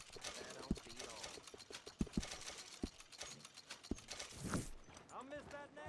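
Horse hooves clip-clop in the video game Red Dead Redemption 2, a sparse series of sharp, irregular hoof knocks mixed with faint mechanical clicks, while characters talk over them.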